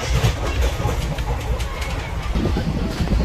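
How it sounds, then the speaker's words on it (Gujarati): A train passes close by on a trip to Dwarka, its continuous loud rumble carrying a faint clickety-clack of wheels, with voices talking underneath. "અને જો આવી ટ્રેન છે."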